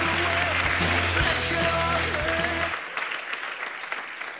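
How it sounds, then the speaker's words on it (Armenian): A studio audience at a comedy club show applauds loudly for a guest, the claps layered over a sustained musical chord that cuts off partway through. The clapping thins and fades toward the end. "Ծափարություններ, խնդրում եմ, պարոն Սադոյանին։"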